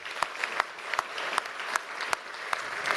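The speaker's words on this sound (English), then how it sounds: "One more time, nice round of applause." Audience applause at a New Hampshire awards ceremony, a dense continuous patter of many hands with scattered louder claps popping out, heard at moderate distance with no talking over it.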